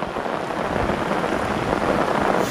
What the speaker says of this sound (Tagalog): Grabing ulan to mga bro.